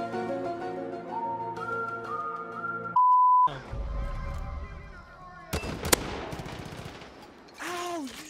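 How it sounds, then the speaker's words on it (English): Gunfire in the video game Far Cry 5, a few sharp close shots bursting through game beeps and music tones, with players talking over the action. "Ow, you just shot me."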